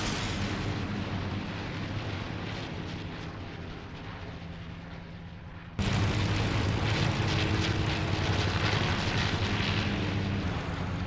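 Airplanes land one after another during the Berlin airlift, recreated in the video game Fortnite: a loud, continuous engine roar that jumps abruptly louder halfway through, heavy and rumbling with no voices.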